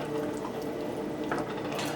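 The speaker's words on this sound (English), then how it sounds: "you could add just a little bit of water to it, just to loosen it up" A small splash of water poured into a thick sauce on the stove for jerk chicken pizza makes a brief, continuous trickling and bubbling sound, heard close and fairly quiet.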